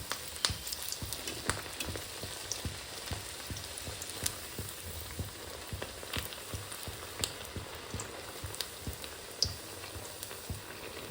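Corn vadas (makyache vade) frying in well-heated oil on a lowered gas flame, giving an even, continuous sizzle dotted with frequent small crackles and pops, close and fairly soft, with no talking.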